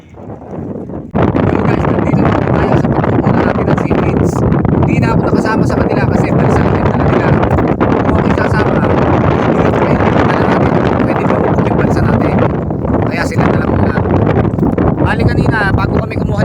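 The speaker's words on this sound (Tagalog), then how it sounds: "hindi kami makakilos ng ayos kasi sobrang lakas ng alon tsaka yung hangin dito" Strong wind buffets the microphone as waves slap a small raft at sea out by seaweed farm lines, a loud, continuous roar holding nearly steady from just after the start.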